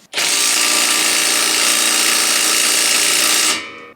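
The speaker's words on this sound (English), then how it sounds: "now we can just impact this boy out" An impact wrench hammers continuously at a car part on an R32 Nissan Skyline GTS-T during a GT-R conversion, loud and close for about three and a half seconds before cutting off.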